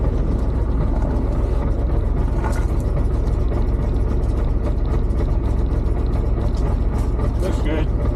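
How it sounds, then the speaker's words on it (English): A Corvette engine idles with a steady, loud, even rumble throughout, close to the microphone and with no pauses or changes in pitch. "Let's let it idle for a bit."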